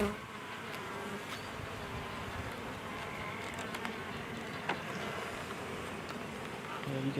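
Honey bees swarming over a brood frame lifted from a hive, a thick steady buzz from many bees at close range, with light handling knocks now and then.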